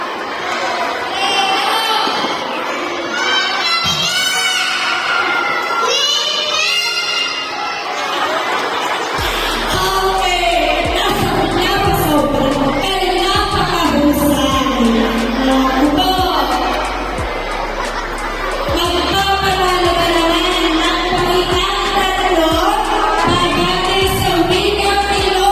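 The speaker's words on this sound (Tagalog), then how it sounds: "kanya-kanyang sigawan." Students at a school Buwan ng Wika celebration shout, cheer and whoop together in a loud, continuous crowd roar, with a beat of music underneath for much of it.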